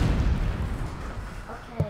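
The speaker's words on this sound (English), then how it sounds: "Oh, you dropped a bomb." Bomb dropped in Worms Ultimate Mayhem goes off as a deep booming blast at the start, rumbling down into a softer tail, with a second sharper pop near the end.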